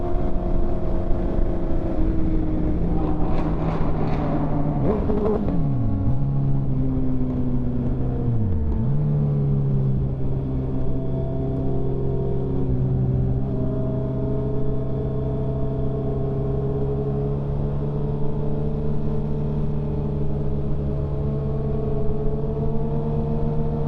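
Sport motorcycles, a Hayabusa, a BMW M1000RR and a Yamaha R6, ride at night. A loud, steady engine drone dips and swells as the riders roll the throttle, close by and with no speech.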